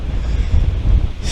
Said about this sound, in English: I know it's really windy, but what can we do?